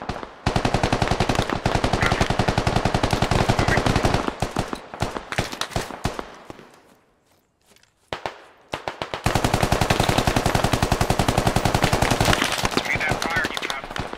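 Sustained bursts of automatic rifle fire in the military shooter Squad, loud and close, rattling continuously, then a brief lull before another long stretch of rapid shots resumes.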